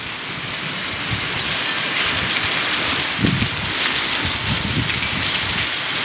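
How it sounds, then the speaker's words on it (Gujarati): Heavy rain pours steadily at close range, a dense, unbroken hiss of drops with occasional louder splashes and low rumbles, with no voices present. "બહુ મસ્ત વરસાદ થઈ ગયો છે"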